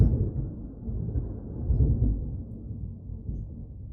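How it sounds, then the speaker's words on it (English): Deep thunder from a powerful storm outdoors rolls and rumbles low and continuously, swelling and fading, with a faint wash of rain behind it. "Powerful storm out there at the moment."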